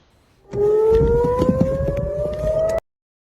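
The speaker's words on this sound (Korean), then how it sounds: "공습 경보 사이렌이 울리고 입니다." An air raid siren wails in Israel with a slowly rising tone, loud and steady for a couple of seconds over a rumbling background, then cuts off abruptly.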